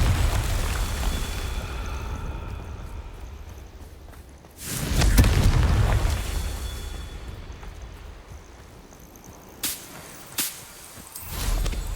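In the Hogwarts Legacy video game, the Confringo blasting spell goes off in a loud whooshing boom that swells and fades over a few seconds, followed later by a couple of sharper cracks over a low ambient rumble.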